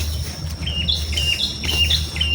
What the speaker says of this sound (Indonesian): ada suara kicauan suara burung